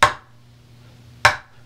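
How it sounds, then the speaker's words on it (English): Two sharp, cracking rim shots on a bucket drum, about a second apart, each snapping loudly then fading quickly. "Another sound you can get on the bucket is to hit the rim like this."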